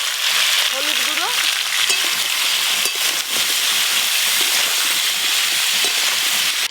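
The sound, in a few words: potatoes and cauliflower frying and stirred in oil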